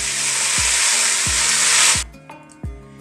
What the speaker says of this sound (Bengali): তো যখন দেখবে জিরেগুলো একটু ভাজা হয়ে গেছে, তখন একটু বেশি করে কারি পাতা